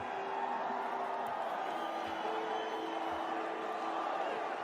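A large cricket crowd cheers for Virat Kohli in a steady, distant roar of many voices that fills the whole stretch, with faint whoops rising out of the din.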